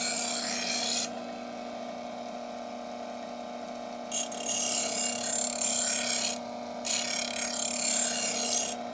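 A knife edge being sharpened on a powered sharpening wheel under very light pressure, giving a steady rasping grind over a constant motor hum, with the scraping dropping out briefly twice between passes.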